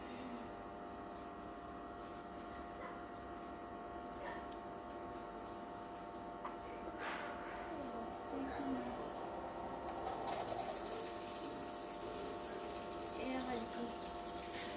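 Small electric water pump motor submerged in water, giving a steady droning hum with splashing water throughout, growing slightly busier later, while people talk nearby.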